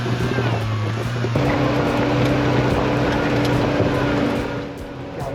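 A Kawasaki Ridge side-by-side engine drones loudly and steadily while climbing a steep canyon trail, its pitch stepping up partway through, with faint voices beneath the engine.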